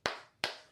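Two sharp hand claps ring out close and loud, evenly spaced about a third of a second apart, each with a brief room echo and no talk.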